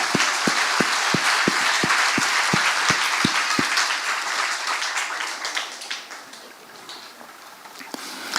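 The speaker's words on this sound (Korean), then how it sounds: "이 좋으신 하나님께 영광의 박수 올리겠습니다." Church congregation at a revival service claps in unison, about a dozen loud, evenly spaced rhythmic claps, then breaking into sustained scattered applause that slowly fades.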